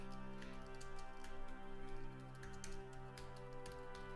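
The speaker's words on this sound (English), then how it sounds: "Just typing some messages real quick" Computer keyboard typing as messages are written, scattered light clicks in quick irregular bursts over a steady background hum, with no talking.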